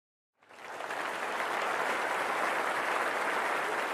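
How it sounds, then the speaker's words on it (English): A church congregation applauds at a broadcast service, steady dense clapping that swells in after a brief silence and holds loud and sustained to the end, with no talk over it. "clap it up for our exclusive VIPs"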